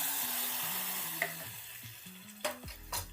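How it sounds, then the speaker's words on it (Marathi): Mustard seeds, cumin and curry leaves sizzle and crackle steadily in hot oil, with a spoon stirring and tapping the pan close by. No one speaks. "तेल तापलं की ही टाकली आपण राई, जिरं आणि हा आपण जो कढीपत्ता एक डाळी ठेवलेला"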